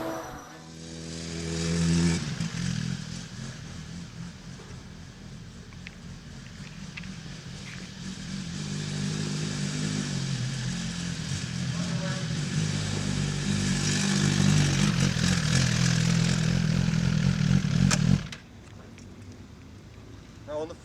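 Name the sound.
2017 Suzuki GSX-R1000R motorcycle engine riding off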